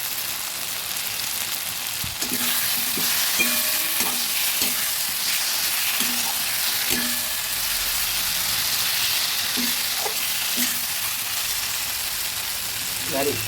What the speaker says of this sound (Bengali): ভাজা আলুগুলো দিয়ে দিলাম